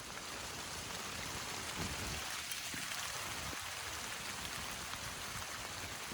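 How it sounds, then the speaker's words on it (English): Steady rain patters on a camping tent, with a soft, even hiss of drops that varies little and stays faint. "I don't know if you guys can hear it, but it's raining"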